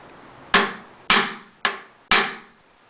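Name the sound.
hammer tapping a 9/16 socket onto a flange nut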